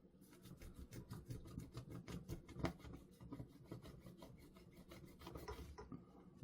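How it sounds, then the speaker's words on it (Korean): Cleaner is wiped over the battery area inside an iPhone 14 Pro during a battery replacement, giving a close, quiet run of rapid rubbing strokes with no speech. "맞는 클리너로 해서 여기 지금 닦은 부분 쪽을 한 번 더 세척을 해 주셔야 돼요"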